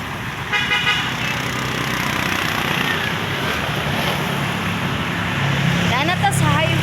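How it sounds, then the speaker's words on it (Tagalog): Highway traffic with car and motorcycle horns honking, a constant roar of passing vehicles close by and rising tooting horn bursts near the end. "Dana ta sa highway guys."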